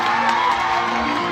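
A college stage-program crowd claps and cheers loudly, with whoops and shouts blending into a dense, continuous roar that stays constant across the short stretch.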